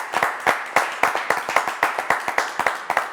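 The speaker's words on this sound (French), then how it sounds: "Allez, applaudissements." Studio audience clapping in a steady rhythmic beat on a French variety show after a singer's performance, loud and close, each clap sharp and distinct, with no talk.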